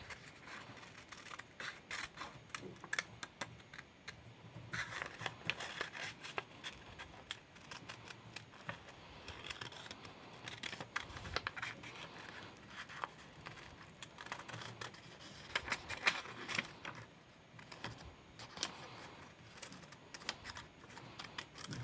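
Scissors cut a paper prototype of an animatronic head with quiet, irregular snips and rustles of paper that continue close by throughout, with no talking.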